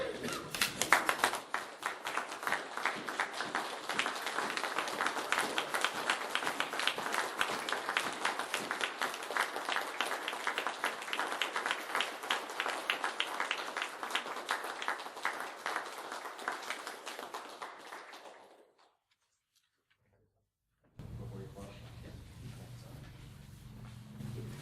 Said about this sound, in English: Will the audience please rise and give Eagle Scout Ben Cretsinger a round of applause?